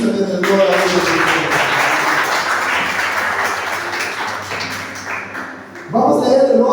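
Congregation at a Sunday church service with communion breaks into loud, sustained applause that fills the room for several seconds before a voice cuts in near the end.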